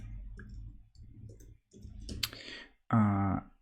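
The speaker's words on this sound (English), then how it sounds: "you'll see me typing that a lot" Computer keyboard typing during a Rust live coding stream: bursts of quick clicking keystrokes close up, broken by short pauses and ending with a brief voiced sound.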